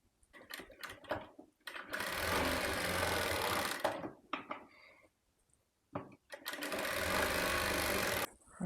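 Sewing machine stitching fabric for a baby's yoke frill frock, two long steady whirring runs of rapid needle stitching, close and loud, separated by short clicks and handling noises with quiet gaps between.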